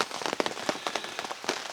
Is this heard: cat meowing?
no